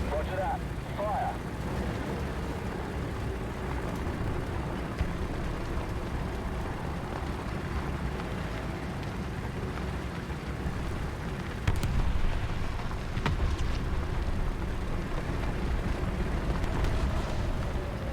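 Tank cannon fire in a World War II tank battle video game: a heavy, booming blast around the middle, then a sustained rumbling roar of battle, with voices speaking over it.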